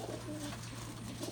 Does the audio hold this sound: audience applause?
no